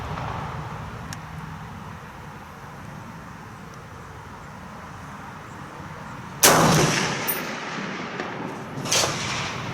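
A rifle fires on an outdoor shooting range: one sharp, loud report stands out against steady background noise, followed a few seconds later by a second, slightly softer shot with a brief echo trailing after each.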